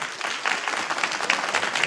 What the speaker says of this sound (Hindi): अगर सुन रहे हैं तो एक ताली बजा दीजिए एक बार।